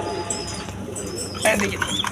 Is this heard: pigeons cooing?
yes